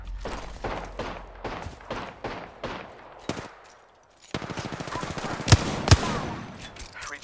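Rapid video game gunfire, rhythmic bursts of automatic shots followed by a brief lull and then a denser fusillade with a couple of heavy thumps, close and fairly loud.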